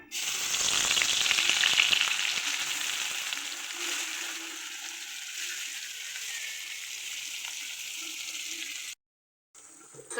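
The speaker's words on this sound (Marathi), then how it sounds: "बघा आपण पूर्ण मसाला तेलामध्ये टाकलाय आता हा मसाला व्यवस्थित असा परतवून घ्यायचा" A freshly ground coriander, garlic and ginger masala hits hot oil for a black moth bean usal, bursting into a loud, dense sizzle that settles to a steadier hiss before cutting out briefly near the end.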